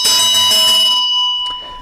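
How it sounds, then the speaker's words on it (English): A bright metallic ritual bell, used in Buddhist sadhana practice, rings out once, its tone shimmering and slowly fading, followed by a faint second strike. "use of the bell"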